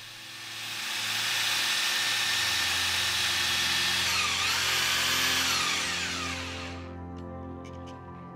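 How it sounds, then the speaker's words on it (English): A power tool drives long metal ground screws into the earth for a cabin foundation, a loud steady whirring grind that holds for several seconds, its pitch shifting as the screw bites, then cuts out abruptly. "I needed to put down the ground screws for the foundation"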